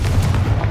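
Confringo fire spell cast in the Hogwarts Legacy video game, a short booming burst with a heavy low rumble, loud and close, lasting under a second.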